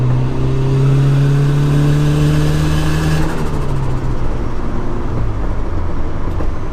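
A 1997 Honda Civic EX coupe with a D16Y7 engine, Y8 intake manifold and eBay turbo, running on a stock ECU, drones loudly up close with a steady engine hum that shifts pitch partway through as it drives.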